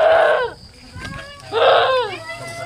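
A goat bleats at a village celebration at night, two loud wavering calls with a softer one between them, close by, over faint background noise.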